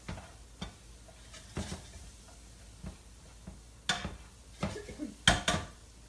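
Scallions, shallots and leeks frying in a pan give a low sizzle, broken by scattered clinks and scrapes as the pan is stirred, some sharp and close, others softer.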